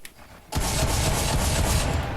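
Rapid burst of video game gunfire in Fortnite, loud and dense after a brief quiet start, continuing steadily as a sustained volley with no talk.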